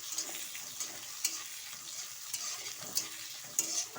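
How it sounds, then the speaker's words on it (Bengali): Chopped onions fry in hot oil for a village-style sambar, giving a steady, bright sizzle with occasional scraping taps of stirring. The sound is close and continuous, with no talk. "পেঁয়াজটাকে একটু ভালো করে লাল লাল করে ভেজে নেব"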